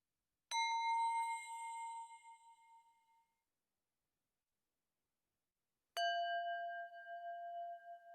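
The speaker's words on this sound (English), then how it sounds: "When you hear the chime, please close your eyes and focus on your breath." Meditation app chime marking the start of a first session: two clear bell-like dings several seconds apart, each ringing with bright overtones and decaying slowly into silence.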